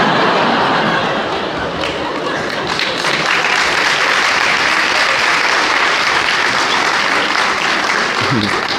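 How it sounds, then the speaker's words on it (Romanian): An audience at a dialogue session with young people in Cluj, Romania, breaks into dense, sustained applause, many hands clapping loudly and evenly, with some crowd chatter mixed in. "Nu dați din palme, că nu-i de aplaudă"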